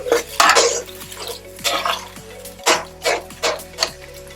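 A utensil stirs chili sauce in a pan for Chicken Szechuan, scraping and clanking against the metal in a series of close, rhythmic strokes over a faint steady hum.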